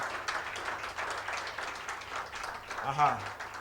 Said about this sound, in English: Please put your hands together for Deolu Akinyemi. Keep clapping.